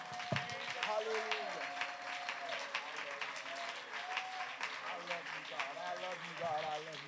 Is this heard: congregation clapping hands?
yes